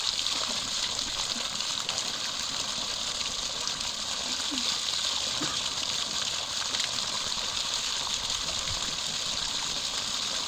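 Steady gushing water pours from a newly built charity spring fountain, a continuous broadband rush close by, with faint voices in the background.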